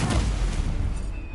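A Stupefy spell cast in a Harry Potter video game gives a continuous loud burst of crackling, booming magical energy that lasts the whole short moment and fades slightly toward the end.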